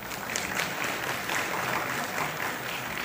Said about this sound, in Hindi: जब आप लोग ताली बजाते हो तो बड़ी खुशी मिलती है अंदर से।